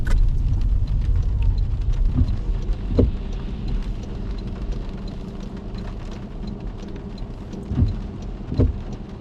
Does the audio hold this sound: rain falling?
yes